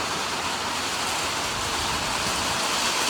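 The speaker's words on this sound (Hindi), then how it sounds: "इतनी जोर से बारिश हो रही है" Heavy rain falls hard and steady, a dense unbroken hiss that stays loud and even throughout with no voices over it.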